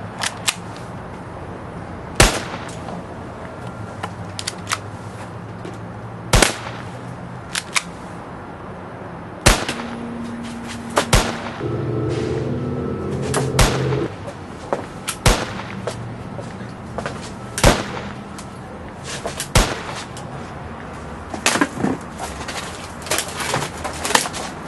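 Gunshots fired into the air ring out as a dozen or so sharp, loud cracks, spaced irregularly over a quiet background.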